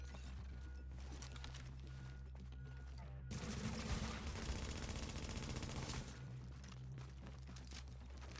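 Sustained bursts of automatic gunfire hammer a fortification in The Division, a dense rattling volley peaking loudly in the middle section over a steady low rumble, with sporadic shots before and after.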